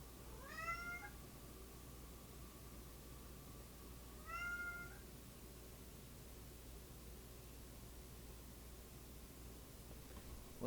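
A house cat meowing indoors, two drawn-out rising meows a few seconds apart, fairly faint over a steady hiss of background noise, with no talking.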